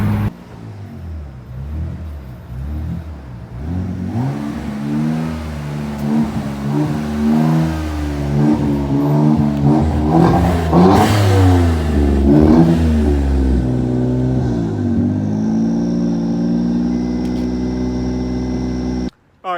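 A Mitsubishi Galant VR-4 engine accelerates while driving, its revs climbing and falling in repeated pulls with a steady, close-miked mechanical hum that then settles into a constant cruise.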